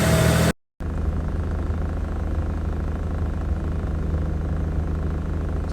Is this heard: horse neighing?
no